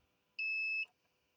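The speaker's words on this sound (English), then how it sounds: "You can hear it beeping there, and I'm just checking the first row of pins." A multimeter in continuity mode gives a single clean electronic beep about half a second long while testing header pins on a Scorpion 4 fruit machine board, sharp and close in an otherwise quiet room.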